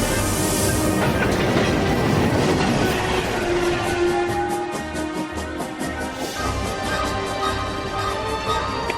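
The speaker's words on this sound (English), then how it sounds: "Tout le monde à bord du train bleu. Départ Gare de Lyon pour Monte-Carlo." A train running as it departs Gare de Lyon for Monte-Carlo: a steady, loud rumble with rhythmic clickety-clack of wheels on rails and faint metallic squeals, continuous throughout.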